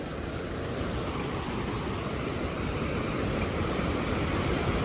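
Continuous broadband roar of a rushing mountain river on the route between Govind Dham and Govindghat, steady and loud throughout, close by, with no voices.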